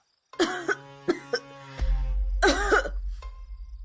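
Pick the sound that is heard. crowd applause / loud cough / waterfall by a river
loud cough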